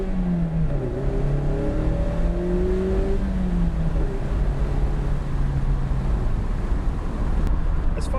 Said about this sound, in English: The sound of the car, even in stock form, it's got this little growl